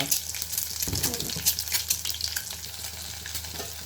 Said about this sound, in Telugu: తాలింపు గింజలు వేసుకున్న తర్వాత ఫ్రై చేయాలి